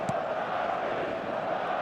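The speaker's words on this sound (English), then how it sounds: "the crowd level has gone up a notch or 10" Crowd noise fills a football stadium during a Barcelona versus Real Madrid Clasico, a dense continuous roar at steady, fairly loud level throughout, with a faint voice briefly audible near the start.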